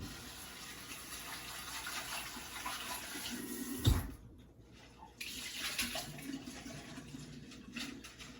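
Green beans and kale are rinsed under running tap water, a steady close gush that briefly cuts off midway with a loud knock before flowing again.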